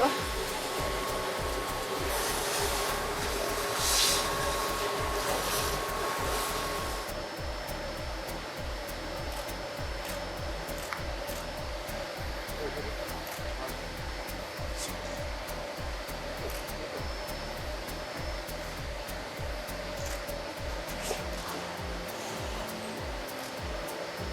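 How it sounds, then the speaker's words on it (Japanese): A vacuum cleaner sucks casting sand out of an L28 engine cylinder head at a foundry, a continuous loud whooshing roar that brightens for the first several seconds and then settles into a steady hum. "これを今度は掃除機で吸いながら中のものを発掘していく。"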